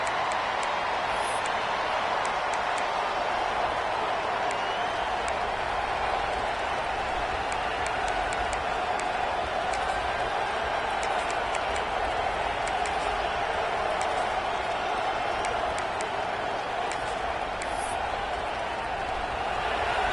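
Stadium crowd noise from a college football video game, a steady broad roar holding for the whole stretch, with scattered faint ticks and claps on top and no break in the din.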